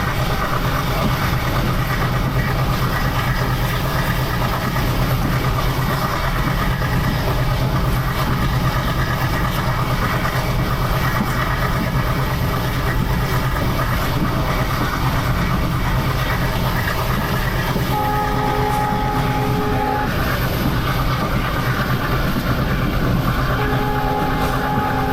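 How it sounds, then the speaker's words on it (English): Steady loud rumble of an ALCo diesel locomotive hauling a passenger train on a Rajasthan desert branch line, running continuously with rattling, and a sustained horn tone sounding toward the end, no talking. "The chugging sound may be overpowering it."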